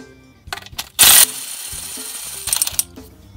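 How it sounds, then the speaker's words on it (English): Ratchet loosening 10 mm screws on the transmission filter of a 2012 Nissan Versa SV 1.6L CVT, heard as a few close clicking bursts and a loud metallic clatter, with no talking. "now let's remove the transmission filter. It's got 3 screws, 10 millimeters"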